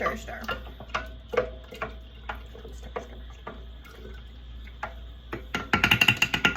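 A spoon stirs kombucha in a bowl, a run of light clinking taps against the bowl at an uneven rhythm, close and moderately loud, ending in a quicker, brighter flurry of clinks.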